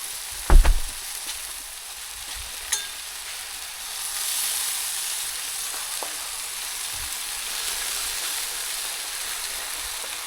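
Thin food sizzles on a hot outdoor grill, a steady broadband hiss holding through the whole stretch after a couple of brief knocks near the start, with no one talking.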